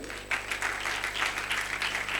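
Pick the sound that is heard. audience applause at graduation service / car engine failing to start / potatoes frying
audience applause at graduation service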